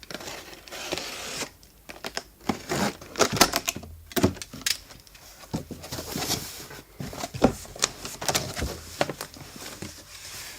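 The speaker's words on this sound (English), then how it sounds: "Opening it is going to be very straightforward because it's sealed with just factory tape" Factory tape peeled and torn from the cardboard box of a BenQ W5700 DLP 4K home theatre projector, a close, busy run of crackling rips and rustles with short pauses between pulls.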